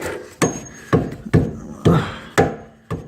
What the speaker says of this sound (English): keep beating these bushings off of this thing